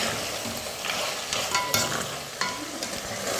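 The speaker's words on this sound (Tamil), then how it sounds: "ஒரு 2 நிமிஷம் நல்லா வதங்கட்டும்." Mutton pieces coated in masala sauté in hot oil for a mutton kuzhambu, with a constant close sizzle and intermittent scraping stirs, and no talking.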